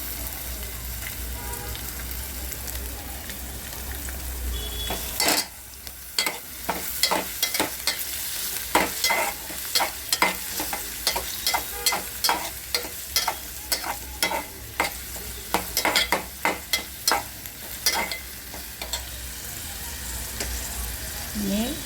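Green chillies frying in a pan for potato bhaji: a steady hot sizzle with a rapid run of loud scraping stirs of a spoon against the pan, starting after a few seconds of quieter frying.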